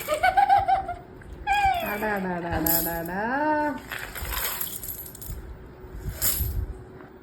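Coins from a broken piggy bank, a year's small savings, clink and jingle as they are handled, with giggling and voices talking over the metallic rattling.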